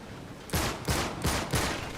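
Four evenly spaced gunshots in Uncharted 3 ring out loud and close, each with a short echoing tail, over low background game ambience.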